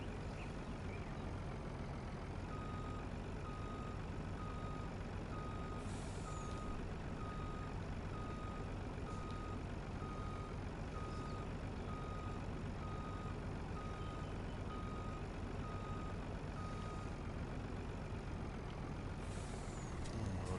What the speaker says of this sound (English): just back this one in right there next to the other truck for now